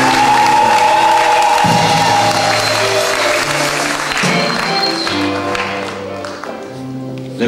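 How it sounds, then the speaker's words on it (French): A crowd at a 2004 academic graduation and certificate ceremony bursts into loud, sustained applause and cheering, with music playing underneath before the clapping gradually thins out. "Acclamons Jésus"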